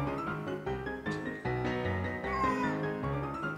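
A Bengal kitten and an adult cat meow in close succession, a string of loud, drawn-out cries and wails that rise and fall for several seconds.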